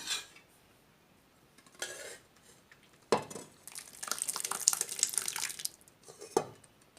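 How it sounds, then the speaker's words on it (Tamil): Cooked toor dal poured from a vessel onto moringa leaves for sambar, a wet splashing pour with utensil clinks against metal, broken into short bursts with quiet gaps, close and fairly soft. "இப்போ நம்ம வந்து வேக வச்சுற பருப்பு வந்து முருங்கைக்கீரையில் ஊற்றிடலாம்"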